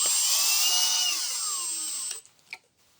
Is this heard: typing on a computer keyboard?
no